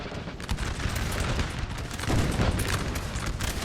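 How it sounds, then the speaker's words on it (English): Massed musket volleys crackle across a Napoleonic battlefield in Napoleon Total War, a dense, continuous fusillade of overlapping shots near and far, swelling louder partway through with distant booms underneath. "Just stand there and just start shooting at them."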